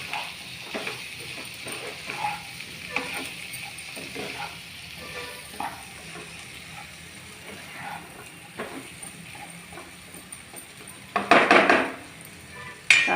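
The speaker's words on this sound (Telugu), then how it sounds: "కాకరకాయలు ఇలా తిప్పుకొని" Bitter gourd pieces being stirred as they fry in a pan, with a soft sizzle broken by scraping and clinks of a utensil against the pan, then a louder burst of clattering near the end.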